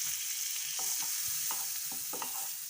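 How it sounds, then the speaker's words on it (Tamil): Butter frying in a pan while an omelette is being made, giving a steady bright sizzle with a few soft utensil scrapes and taps throughout, close and fairly quiet, no voices. "இப்போது அதே பேனில் இன்னும் கொஞ்சமாக பட்டர் ஆட் பண்ணிக்கலாம்."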